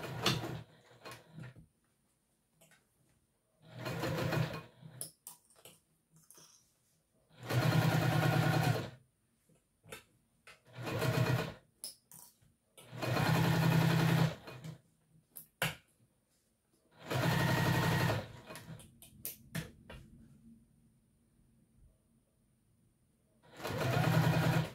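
Sewing machine running seams on T-shirt knit fabric for a garment, in about six loud bursts of steady whirring separated by pauses and small handling noises, with no talk.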